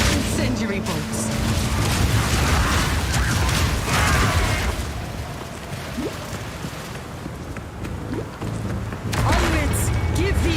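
Incendiary crossbow bolts fired in the action game Path of Exile 2: repeated mechanical clacks and fiery bursts pop through a dense, continuous wash of battle noise.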